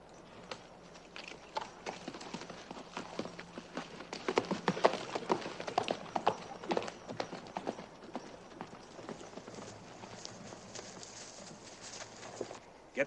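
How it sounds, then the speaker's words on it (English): Several horses' hooves clip-clop in a steady, fairly quiet patter on hard ground in a Western cowboy film, with no voices over them. "start rounding up the horses"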